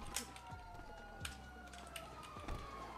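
Emergency sirens wail faintly in the distance outdoors, rising and falling over a steady rumbling background with a few brief clacks, no talking.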